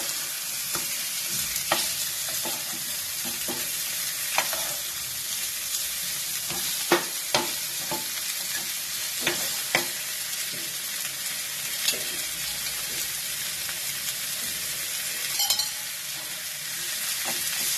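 Fish frying in a pan with a soft continuous sizzle, broken by occasional sharp clicks and taps of a utensil, fairly quiet and close.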